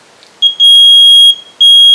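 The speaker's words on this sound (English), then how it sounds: "Here, as you see, the LED blinks and the buzzer sounds." A piezo buzzer in a 555 timer alarm circuit gives loud, piercing high-pitched beeps: a short chirp, then two long sustained tones with a gap between them.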